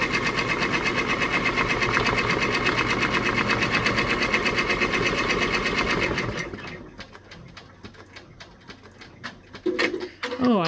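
A Brother PR1055X embroidery machine stitches rapidly at speed 500, a loud steady mechanical rattle for about six seconds that then drops away. Quieter clicks and handling noises follow.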